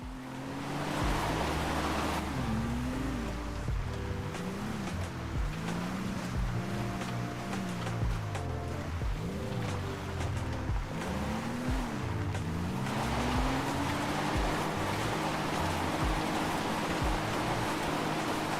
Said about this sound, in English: Taking the wagon off-roading.